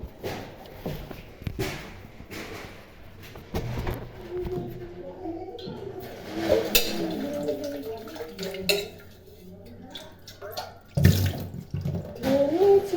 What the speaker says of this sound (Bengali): এটা ভালো করে আমি জল দিয়ে ধুয়ে দেবো।